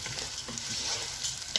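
Freekeh stirs and fries in hot ghee with a continuous crackling sizzle, broken by light scraping strokes of the spoon and a few sharper pops, close up and without talk.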